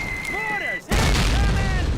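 Mortar blast in a World War II Call of Duty battle: after a brief dip, a loud, broad boom erupts and rumbles on, with shouted voices heard before it.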